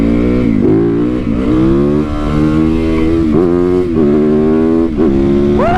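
A Supermoto motorcycle engine revs and accelerates loudly up close, its pitch rising and dropping through repeated throttle blips and gear changes.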